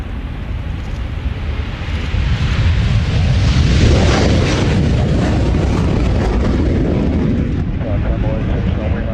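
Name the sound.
aircraft departing at the Royal International Air Tattoo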